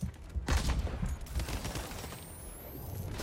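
Gunfire in a Spider-Man video game: a sharp burst followed by a dense, noisy clatter of shots fading under game ambience, with a rising whine at the end and no talk.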